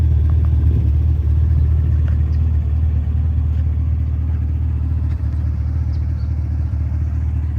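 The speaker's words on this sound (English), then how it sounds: "overall, the vehicle sounds good" A 2016–2019 Cadillac CTS-V with a carbon fiber body running while driving, giving a steady, loud low-end engine drone and road rumble throughout with no voices on top.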